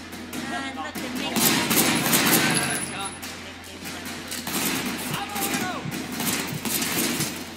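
Gunfire in the video game Sleeping Dogs: dense, continuous bursts of shots with engine-like rumble beneath, heard over a steady game soundtrack while someone talks intermittently.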